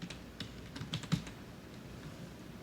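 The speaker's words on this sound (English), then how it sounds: "typing their names in here" Keystrokes on a computer keyboard come in short, soft clusters as names are entered into a Zoho Mail email setup, faint and close, over a quiet background hum, with no speech.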